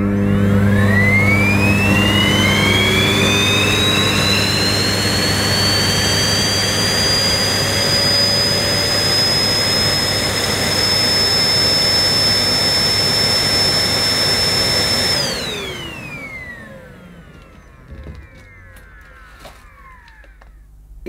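A Hoover Sensory 2300 watt vacuum cleaner running loud and close, its motor whine climbing steadily in pitch as suction ramps up, holding at a high scream, then spinning down and fading to quiet near the end.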